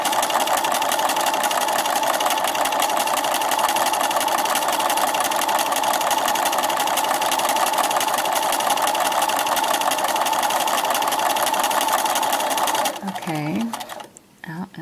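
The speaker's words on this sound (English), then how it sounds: "we're going to sew along this long edge" A sewing machine runs continuously along the long edge of a fabric bookmark, a loud, fast, even mechanical whir that stops near the end, followed by brief handling noises.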